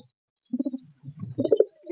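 Pigeons coo in short throaty bursts, three soft phrases close by, with faint higher chirps above and no talk.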